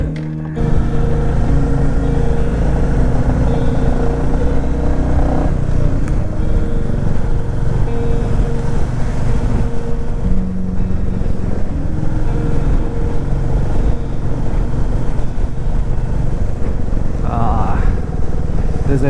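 Royal Enfield Meteor 350 motorcycle climbing the Agumbe Ghat road in monsoon weather, a loud steady engine drone heard from the rider's position for the whole stretch, with a voice speaking over it at times.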